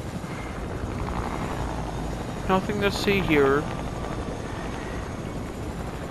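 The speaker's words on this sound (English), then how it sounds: "Just chilling in my chopper." A helicopter flies in the video game Fortnite, its steady rotor drone continuous under a short burst of someone talking.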